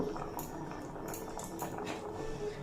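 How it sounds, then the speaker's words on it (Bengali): A curry of raw banana dumplings in red lentil gravy simmers, a soft continuous bubbling with a few faint clinks of utensils against the pot, fairly quiet and with no voices. "এই ধোকাগুলো দিয়ে কিন্তু খুব বেশি ফোটানো যাবে না দেড় দু মিনিট মতো ফুটিয়েই নামিয়ে নিতে হবে"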